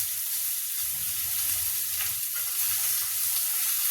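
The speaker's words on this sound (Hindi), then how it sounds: "अब हींग के बाद इसमें हम डाल देंगे ये हमारा जो कटहल है, बिल्कुल हल्का सा फ्राई कर देंगे खड़े गरम मसालों के साथ" Jackfruit pieces fry lightly in oil with whole garam masala spices such as cloves, bay leaf, black cardamom and cinnamon, giving a steady, close hiss of sizzling with faint stirring underneath and no talking.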